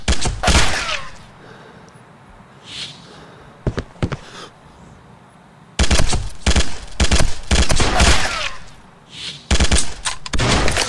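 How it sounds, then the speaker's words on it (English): Uzi submachine gun fire in the shooter video game Sierra 7, loud rapid bursts of automatic fire separated by short pauses, with scattered single impacts between them and no voices. "I'm using my Uzi this time."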